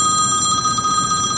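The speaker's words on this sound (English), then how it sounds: "My phone is ringing, but we are going to ignore that with the touch of a button." A phone rings steadily with a bright electronic tone inside a police patrol car, continuous for the whole moment with no talking.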